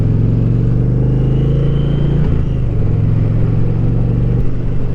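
A 2024 Indian Challenger Dark Horse motorcycle engine rumbles steadily while riding, a loud continuous low drone with a brief dip in pitch partway through, as from a shift, with no talk over it.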